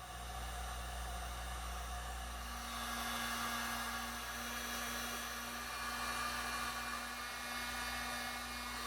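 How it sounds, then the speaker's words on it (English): A heat gun shrinks heat-shrink tubing over wiring, a steady blowing hiss with a low hum running throughout, close and unbroken. "Time to do some heat shrinking."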